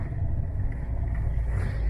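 A Fiat Punto's engine pulls steadily up a gentle incline, giving a continuous, close, low rumble with a faint rise in revs and no speech over it.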